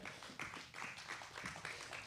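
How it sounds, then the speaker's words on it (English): A faint, distant patter of audience applause greeting performers at a church gathering, steady and soft throughout. "Give them a round of applause."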